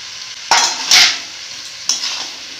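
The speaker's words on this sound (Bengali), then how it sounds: "ভালো করে কষিয়ে নিব" Fried onions and whole potatoes are stir-fried into a tomato spice mix, with three loud, scraping stirs over a soft, steady sizzle.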